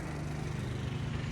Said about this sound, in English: just get away from the mowing